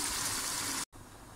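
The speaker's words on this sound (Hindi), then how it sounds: "अब बाकी हिसाब से भी हम इसके अंदर पानी डालते हैं।" Water poured into a pot of rice and yakhni stock for biryani, a steady close gushing rush that cuts off briefly and resumes, heard alone.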